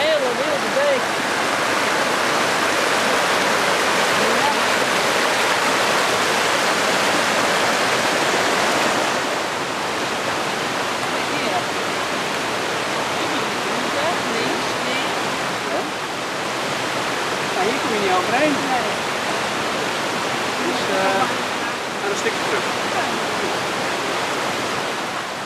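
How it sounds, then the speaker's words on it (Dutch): A wild mountain stream in Austria rushes loudly and steadily throughout, a dense broadband roar of churning water close by with no pauses. "Geen Prikkeldraad, maar wel een hele wilde beek."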